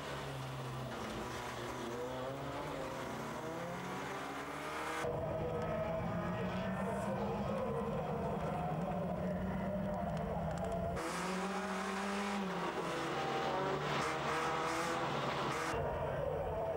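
Peugeot and Citroën touring cars racing at Jyllandsringen, with engines droning and changing pitch as they pass close by. The sound is continuous and loud, and the engine notes shift sharply as the cars brake and accelerate.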